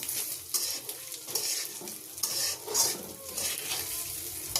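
Rice and potatoes fry in oil tempered with bay leaf and cardamom, giving a loud, continuous sizzle broken by repeated bursts of stirring and utensil scraping against the pan.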